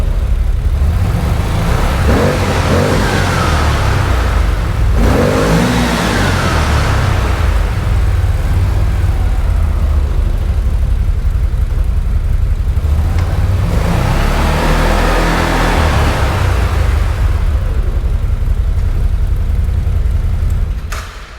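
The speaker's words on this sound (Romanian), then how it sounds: "Auzi ce bate distribuția în cap." A CFMOTO X10 Touring scooter engine runs steadily and loudly up close for the whole stretch, its timing chain beating audibly, with two swells in level and no voices.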